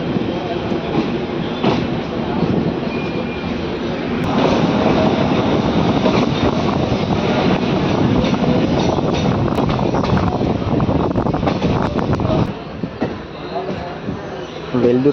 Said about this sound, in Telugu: బోగోలు నుంచి మన ట్రైన్ బయలుదేరింది